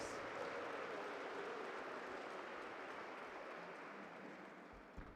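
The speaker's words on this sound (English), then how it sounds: "let us give the management of the hospital a round of applause" Applause for hospital management at a hospital visit by officials, a broad, continuous roar of clapping from a sizable crowd that holds steady and fades slightly.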